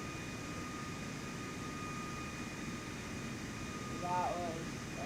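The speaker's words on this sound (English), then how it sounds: "That was a really nice takeoff." Steady broadband roar of an airliner's engines during takeoff and climb in Microsoft Flight Simulator 2024, holding constant throughout with a faint tonal hum and a brief swelling whine near the end.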